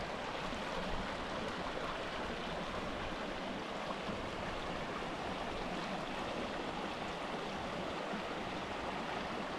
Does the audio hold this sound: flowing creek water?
yes